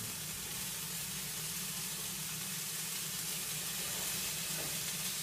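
Chicken fries in a non-stick pan, giving a steady, dense hiss of sizzling oil that holds at an even level throughout, close and without talk.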